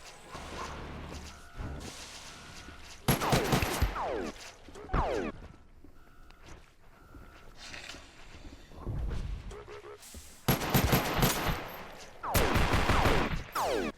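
Gunfire in the video game Space Station 14, with several loud bursts of rapid shots separated by quieter stretches of faint background sound, sharp and close.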